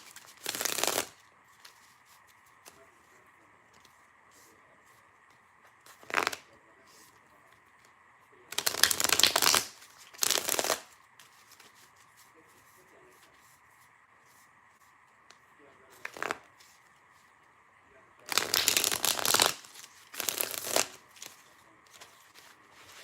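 Tarot cards being shuffled in repeated bursts, some short riffles and several longer ones, close and fairly loud over a quiet room hum, with no talking.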